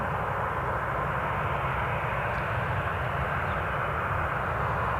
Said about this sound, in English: next departing action will be that, or this, Ryanair 737, currently being disconnected from its tug